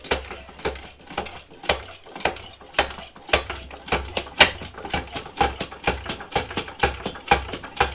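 A coil spring compressor tightens a new front suspension coil spring for a Vauxhall Corsa D, a close, loud series of rhythmic ratcheting clicks and metallic clunks repeating about twice per second, with no talking.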